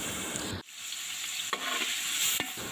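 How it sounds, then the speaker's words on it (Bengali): Onions fry in a pan for a Bangla chicken roast. A steady, moderately loud sizzle runs under brief stirring scrapes and clatters from a utensil, and no one speaks. "আমি পেঁয়াজটাকে ভালো করে ভেজে নিচ্ছি।"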